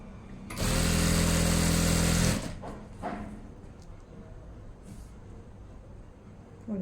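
A sewing machine runs a straight stitch along a folded trouser hem in one loud, steady whirring burst of under two seconds, then falls silent to faint background noise.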